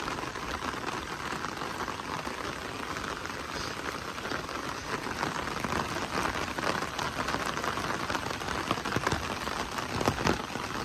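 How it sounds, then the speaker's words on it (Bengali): Rain falls steadily on a stormy, cloudy day, a continuous dense hiss of drops pattering on surfaces with no voices. "বৃষ্টির শব্দগুলো আসলে টিপ টিপ টিপ টিপ"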